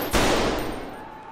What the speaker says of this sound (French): Il tire.